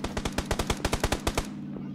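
Rapid automatic gunshots in PUBG form an evenly spaced burst of about fourteen sharp cracks over roughly a second and a half, fairly close and loud, then stop with a faint hum left behind.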